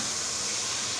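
Meat being roasted in ginger garlic paste for aloo gosht, a dense steady hiss of frying close by with no voices.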